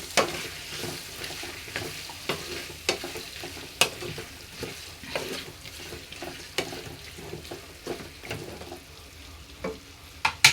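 Chopped tomatoes are stirred into chicken curry frying in a pan, with a soft low sizzle punctuated by a string of sharp spoon scrapes at an irregular pace.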